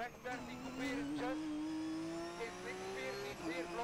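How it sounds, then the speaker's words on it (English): A Porsche GT rally car on a Belgian rally stage near Tielt, its engine note climbing steadily under hard acceleration as it drives past, loud and continuous with a sharp high whine over a throaty roar. "just for fun he's driving Jochen Klaarhout's Porsche here in Tielt"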